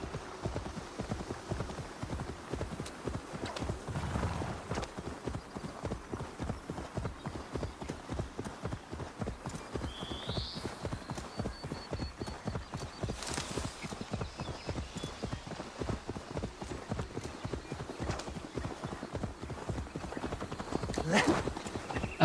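Horse hooves clip-clop at a steady trot in a video game, a rhythmic, close, continuous beat with brief game effects, and a voice talks over parts of it.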